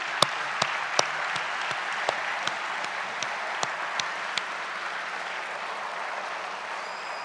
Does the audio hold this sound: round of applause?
yes